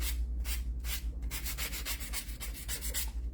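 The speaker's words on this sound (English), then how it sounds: "we've got our sanding sponge" Close, rhythmic scratchy rubbing of a sanding sponge on a surface, about a dozen quick back-and-forth strokes in a steady pattern.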